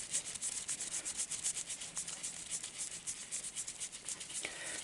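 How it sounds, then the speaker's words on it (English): Fingers rub a silver florin coin ring with a fast, even, dry scrubbing rhythm. The sound is close and moderately soft, with no talking. "So just give that a good rub with your fingers."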